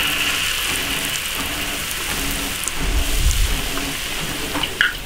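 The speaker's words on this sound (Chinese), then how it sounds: "油温起成了，下锅炸。" Starch-coated beef bones deep-frying in a wok of hot oil, a steady dense crackling hiss that runs evenly throughout with a brief low rumble partway.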